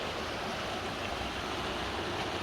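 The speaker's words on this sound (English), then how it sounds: "It's running. The water is flowing finally." Steady broadband rush of flowing stream water in Madera Canyon, a continuous even wash with no breaks and no voices, heard close and moderately loud.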